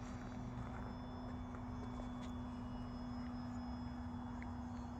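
Small ultralight plane in flight on a new propeller, its engine droning steadily and continuously at low power throughout, with a strong constant hum and no voices.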